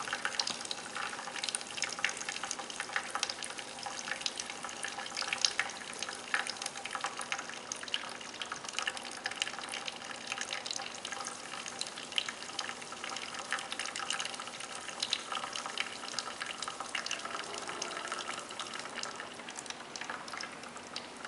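A thin stream of running tap water, a faint, steady hiss and patter that continues without a break throughout, with no voices.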